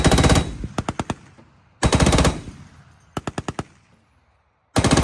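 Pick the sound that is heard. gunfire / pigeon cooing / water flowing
gunfire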